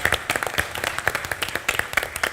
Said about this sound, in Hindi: जोरदार तालियां फॉर बीइंग अ स्पोर्ट।